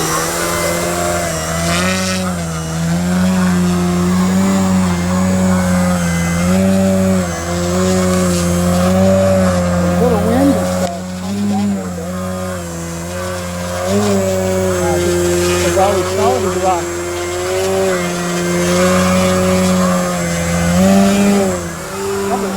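A PA Addiction XL RC airplane drones steadily at high power while hovering, its motor pitch wavering up and down continuously, loud and close with a voice talking over it at times.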